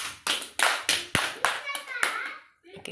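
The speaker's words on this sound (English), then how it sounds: "Give a big clap to Josh" A class of young kindergarten children clap for a classmate, about eight sharp, close claps in an uneven rhythm with a brief pause before a last clap, as children's voices chatter between them.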